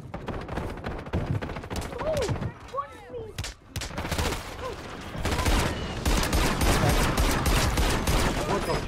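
Player gunfire in a shooter game: dense bursts of shots, close and loud, with short pauses and a sustained stretch of firing at the end, while a voice talks intermittently over it.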